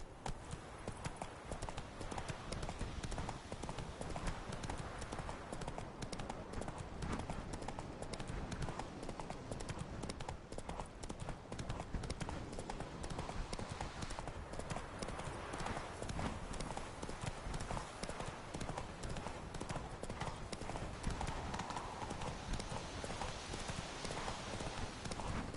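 Horse Roach galloping in The Witcher 3, with a steady, rapid clip-clop of hooves that runs unbroken and fairly loud for the whole stretch, set over continuous game ambience.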